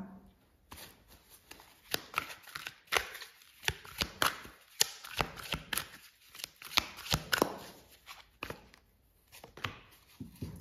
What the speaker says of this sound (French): Allez, on va prendre une carte supplémentaire avec ça.